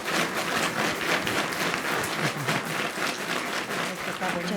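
An audience at a public forum on unpaid child support as economic violence applauds the sign language interpreters. The clapping is full and steady for several seconds, with a low murmur of voices mixed in.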